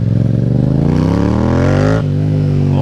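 A Yamaha FZ07 motorcycle accelerates hard, its exhaust note rising steadily in pitch for about two seconds before a gear change drops it, loud and close with no speech.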